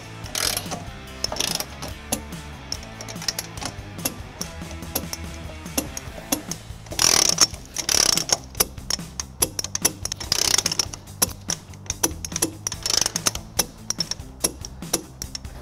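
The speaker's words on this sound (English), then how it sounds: "We're going to start with these three nuts using a 14 millimeter socket." A ratchet with a 14 mm socket tightens trailer hitch nuts on a 2021 Toyota Sienna. Close, rapid bursts of clicking come in several separate runs, with short pauses between them.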